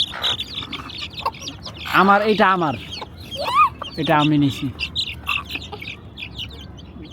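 A chicken clucks loudly nearby in two short bursts, while people talk in the background.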